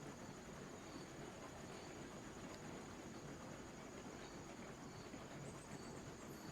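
Steam locomotive running in the railroad video game RAILROADS Online, a steady, dense rumble and hiss of the engine rolling along at low power, continuous and fairly quiet, with no talk.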